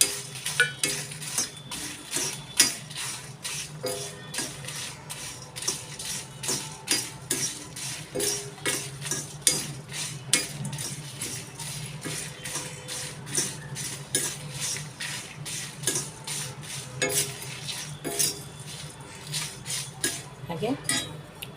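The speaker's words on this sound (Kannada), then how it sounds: "ಈಗ ಒಣಮೆಣಸನ್ನು ಹಾಕ್ಕೊಳ್ತಾ ಇದ್ದೀನಿ" Dry red chillies added to a hot pan with cumin and stirred with a metal spoon while roasting spices for avarekaalu bath powder: rapid, steady metallic clinks and scrapes throughout, close up, with a low background hum.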